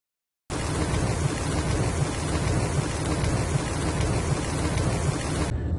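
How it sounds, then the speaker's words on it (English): Heavy rainstorm drumming on a pickup truck's tonneau cover, a dense, even roar of rain that starts abruptly and holds steady at close range before cutting off, with no voices. "the rainstorm just stopped"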